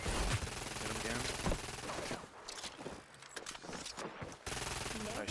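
Rapid gunfire from the arena shooter Hyperscape, dense bursts of shots in quick succession, loud and close, broken by a short lull before firing resumes, with a voice talking over parts of it.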